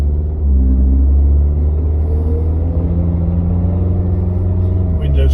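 Suzuki Jimny JB74 with a performance exhaust on the road, a deep, steady exhaust rumble and droning engine note heard from inside the cabin with gentle rises in pitch as it pulls along.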